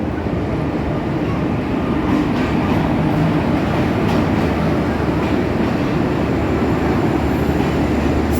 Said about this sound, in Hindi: फाइनली अल्हम्दुलिल्लाह हमारी ट्रेन आ गई और ये बिल्कुल ऑन टाइम थी।